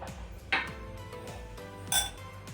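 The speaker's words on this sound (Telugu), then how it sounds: "ఇప్పుడు ప్రెషర్ పోయింది, మూత తీసి చూద్దాము." A pressure cooker lid is opened after the pressure has gone, with two sharp metallic clanks and light rattles over a quiet background.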